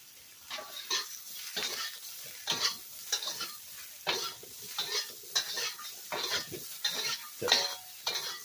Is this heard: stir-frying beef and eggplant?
yes